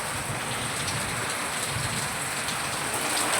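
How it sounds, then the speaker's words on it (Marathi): Heavy rain pours down steadily during a sudden thunderstorm, a dense, continuous hiss of drops hitting surfaces with no talk and no distinct thunderclap. "बघू शकता विजांच्या कडकडासह पाऊस आलेला आहे"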